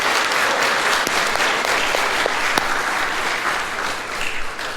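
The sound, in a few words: church congregation applauding a family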